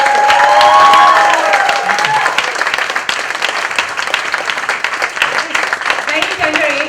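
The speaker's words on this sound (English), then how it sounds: "can we have one huge round of applause for Tanveer" A large audience breaks into loud applause with some cheering, the clapping dense and sustained; a voice is heard at the start before the crowd takes over.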